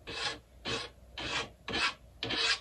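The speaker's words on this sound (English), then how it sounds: "We could do just like a spot check with my edge stone here." An edge stone rubs back and forth along a ski edge to take off a burr, giving five even, close rasping strokes in a steady rhythm with brief pauses between them.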